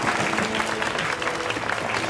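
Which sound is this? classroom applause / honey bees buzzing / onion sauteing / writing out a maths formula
classroom applause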